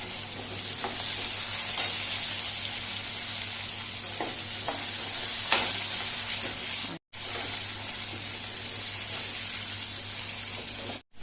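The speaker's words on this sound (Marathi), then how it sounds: "आतां भितर टमॅटो घालुया इल्लीशी ओली कोथंबीर घालुया" Tomato and fresh coriander sizzle steadily in a hot pan for a Goan dry clam masala, a continuous close frying hiss with a few soft stirring clicks and one brief drop-out.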